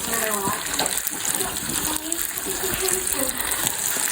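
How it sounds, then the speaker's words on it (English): Water is poured into a cooking pot of baked beans with melting butter, a continuous close gushing splash that lasts the whole span, with faint voice sounds underneath. "then we can add the water"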